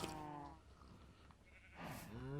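Minecraft sheep bleating twice, wavering harmonic bleats at the start and near the end of the moment, fairly close and clear over a quiet game background, no speech.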